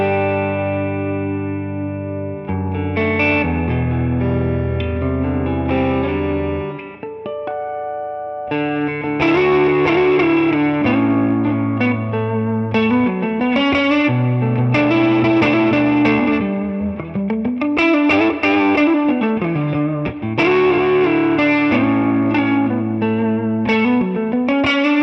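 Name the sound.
1957 Fender Stratocaster electric guitar, neck pickup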